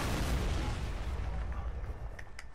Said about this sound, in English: Watch out, Jonathan. Got a missile.